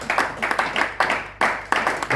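A church congregation clapping together in a steady, rhythmic beat, the claps close and moderately loud, with a faint voice underneath.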